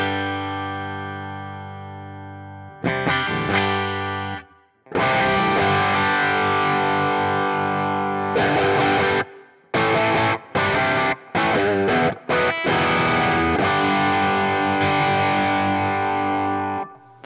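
Electric guitar played through the Joyo Preamp House UK 900 distortion model on the low-gain drive setting, loud crunchy sustained chords and short choppy stabs with brief silent gaps between them, no talking.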